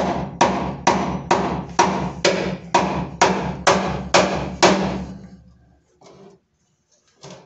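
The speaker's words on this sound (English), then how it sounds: "I'll put that right in between there and whack it with the hammer" Ten evenly spaced hammer blows ring against a car's metal transmission bracket, sharp and close with a short metallic ring, followed by a few faint clinks.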